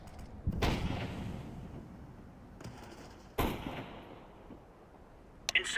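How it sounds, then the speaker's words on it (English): Smoke grenade thrown in a shooter video game: a few sharp thudding bursts with hissing tails separated by quiet stretches, followed by a crisp metallic clack at the end. "Throwing smoke."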